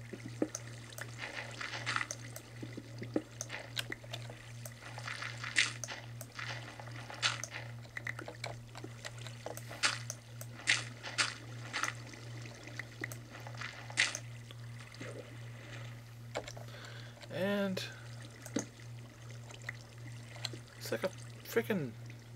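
Water flowing in a stream in the blocky video game Minecraft, a steady trickling and splashing across the whole stretch with a constant low game hum beneath, while a voice talks intermittently over it.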